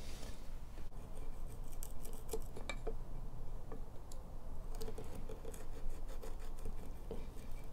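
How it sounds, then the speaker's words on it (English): Small half-round gouges cut a recess into a wooden workpiece, giving close, irregular scraping and light chipping cuts scattered over a few seconds against quiet room noise, with no talk. "So you can see we've just gone in there with some little gouges to create that recess"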